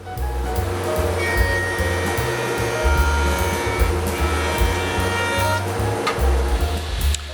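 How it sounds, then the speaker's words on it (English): A jointer runs loud and steady, smoothing the bandsawn tapered faces of wooden nightstand legs, its motor hum broken by shifting cutter noise as each pass is fed through. "After cutting on the bandsaw, the leg tapers rather, are smoothed on the joiner."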